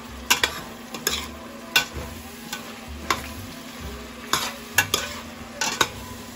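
Menudo ingredients sauté and sizzle in a pan under a steady frying hiss, while a spoon stirs and scrapes against the pan in repeated irregular strokes, close up with no talk.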